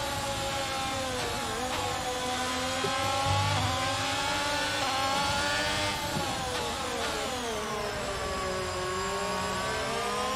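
An F1 race car in the F1 22 video game screams under acceleration, with its engine pitch repeatedly climbing and then dropping at gear shifts. The engine note is loud, continuous and close throughout.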